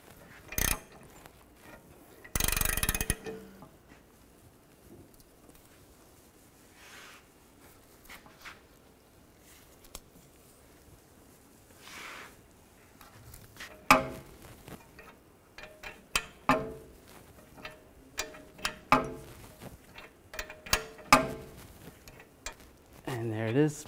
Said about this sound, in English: As we tighten this, it's just going to be pushing it in.